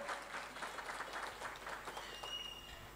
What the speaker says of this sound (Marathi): वाजवा की जरा टाळ्या